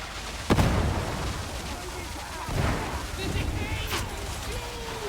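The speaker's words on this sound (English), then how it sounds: "Throwing grenade." A thrown grenade in the Darktide video game, a sharp loud blast near the start followed by a rumbling second boom, with game chatter and combat noise around it.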